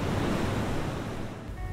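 Waves roll and wash steadily onto Savane beach on the Konkan coast, a broad, close, continuous surf roar with some wind noise on the microphone.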